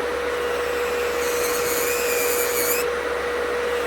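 An electric nail drill fitted with a coarse debulking bit runs over a constant low hum, rising into a thin, high whine for about a second and a half before dropping back.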